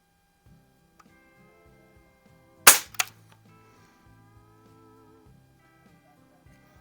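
A Barra 1866 Jr. single-stroke youth pellet/BB rifle fires one sharp, loud crack followed almost immediately by a fainter second snap, standing alone against a quiet background with a faint steady hum.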